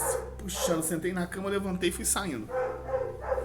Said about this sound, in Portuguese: tem um cachorro latindo do vizinho